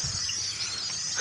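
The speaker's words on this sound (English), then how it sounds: "This is the tree of birds. You hear all them?" Dense high-pitched chirping of a flock of birds in a tree, a continuous busy chatter filling the air without pause.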